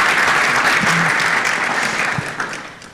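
Loud, close applause from an audience at a women in racing session in a hotel venue, a thick continuous wash of clapping that gradually fades toward the end.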